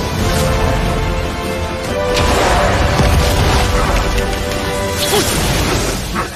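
A green core explodes in the animated fantasy series Renegade Immortal, a loud sustained roaring blast with rumbling crashes that swell midway and persist throughout.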